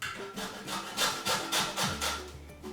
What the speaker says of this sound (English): Lemons are so much easier to grate.